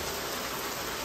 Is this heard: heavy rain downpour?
yes